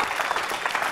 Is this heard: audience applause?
yes